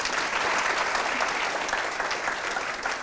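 A studio audience at a French entertainment show gives sustained, dense applause for the guests, steady and fairly close throughout with no voices on top.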